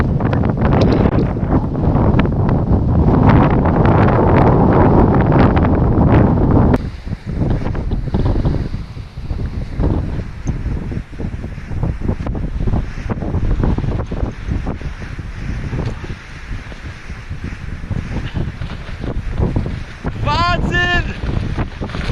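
Extreme storm wind on the coast of La Palma island, loud buffeting gusts battering the microphone continuously, with crashing surf beneath and a brief high whistle near the end.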